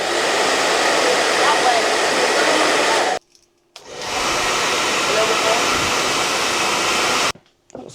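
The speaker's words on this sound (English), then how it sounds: "Can't I just hold the blow dryer?" A hair dryer blows loudly and steadily for about three seconds, cuts off briefly, then runs again before switching off.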